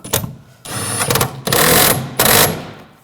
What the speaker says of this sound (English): Now I'll tighten this bolt down.